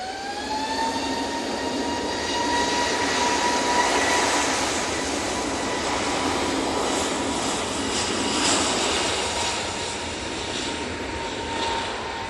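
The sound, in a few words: Jet2 Airbus A321neo airliner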